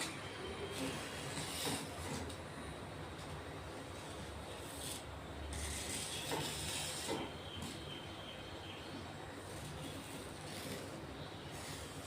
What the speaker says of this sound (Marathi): फक्त 5 मिनिटं आपण फुल गॅस ठेवणार आहे